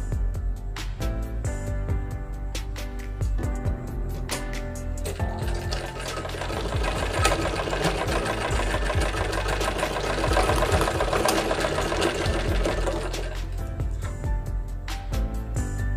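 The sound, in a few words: sewing machine stitching a fabric strip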